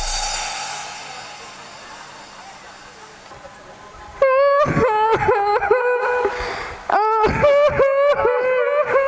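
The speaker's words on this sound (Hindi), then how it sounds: "ये हमारे दरबार में रोने की आवाज कैसी?" A woman wails and cries in a royal court scene of a Ramleela stage performance of the Ramayana. Loud, high-pitched sobbing bursts break in after a few seconds of quiet background noise, then pause and return.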